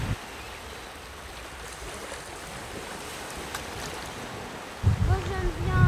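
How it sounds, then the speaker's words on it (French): Sea waves rolling in on a beach produce a steady, broad wash of surf with wind noise throughout, swelling louder near the end, where a voice briefly speaks. "Regardez les vagues qui s'amènent là"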